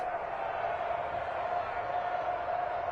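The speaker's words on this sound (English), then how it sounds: "Listen to this crowd now." A distant video game football crowd roars during a two-point conversion in a steady, sustained wash of noise without pauses, moderately loud throughout.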